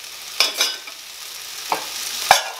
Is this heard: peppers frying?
yes